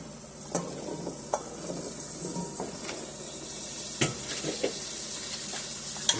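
Sweet potatoes sizzle in a hot pan under a steady hiss, with occasional scrapes and taps as they are stirred.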